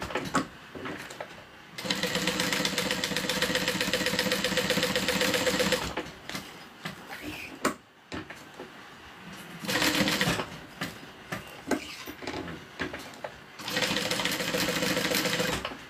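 A sewing machine stitches close by in several sustained runs of rapid, even mechanical whirring, separated by short pauses with small clicks and handling noises.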